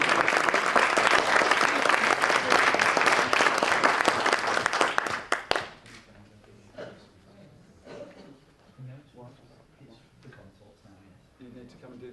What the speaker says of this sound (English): Can we have a cheer?